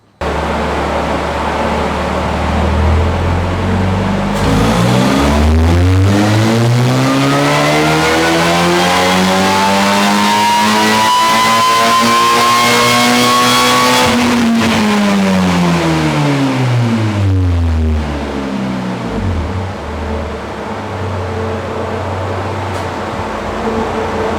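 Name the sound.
supercharged Ariel Atom with 2.4 Honda Accord engine on dyno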